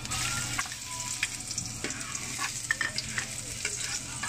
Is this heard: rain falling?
no